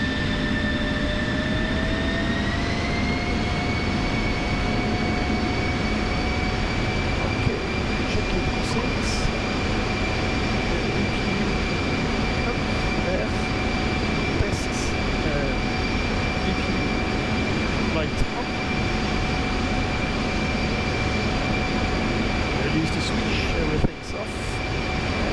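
An F-16 jet engine in the DCS flight simulator spools up at 80% throttle, a rising whine that settles into steady high-pitched tones over a loud, continuous rumble.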